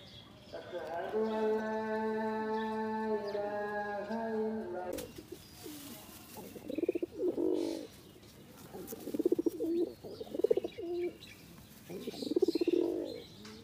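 Red chila pigeons cooing in low, throaty rolls, repeated in bursts up close, after an opening stretch of a steady tonal hum.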